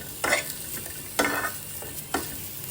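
Three distinct spatula scrapes stir chopped onion, ginger, garlic and coconut dry-roasting without oil in a frying pan over a medium flame, each stroke bringing a brief dry sizzle, close and alone.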